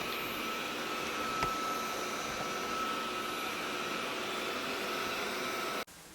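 A 360 S7 robot vacuum cleaner runs with a steady, quiet broadband whoosh and a faint motor whine, then cuts off sharply at the very end.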